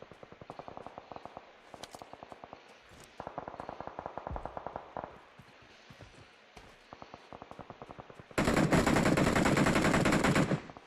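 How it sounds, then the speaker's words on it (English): Gunfire from the video game PUBG Mobile rings out in rapid automatic bursts of sharp cracks, split by short pauses. A louder, denser burst of shots near the end gives way to quieter fire, and the sound is close and punchy. "Shots continue to ring out."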